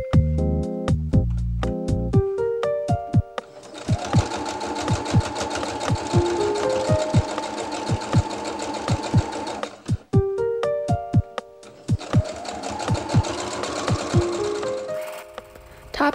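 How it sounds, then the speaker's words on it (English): A sewing machine top stitches the fabric straps of a patchwork bag, running in two long steady bursts of rapid needle clatter with brief pauses and a few slower stitches at the start. "Top stitch along the other edge of the straps to make them look flat and even."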